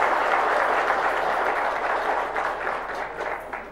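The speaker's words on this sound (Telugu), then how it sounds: "మన అందరం కూడా పెద్ద ఎత్తున చప్పట్లతో వారిని అభినందించాల్సిన" Audience applause at a book launch, a sustained wash of clapping from a large crowd that slowly thins toward the end.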